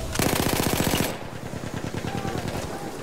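Machine gun firing in the video game Battlefield 1, a loud, close rapid burst of evenly spaced shots followed by a continuing stream of quicker, slightly softer rattling fire.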